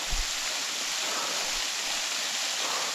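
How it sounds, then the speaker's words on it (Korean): Gusong Falls on Obongsan mountain near Cheongpyeongsa temple in Chuncheon pours in a steady, broadband rush of falling water, close and continuous, with no voices. "구송폭포."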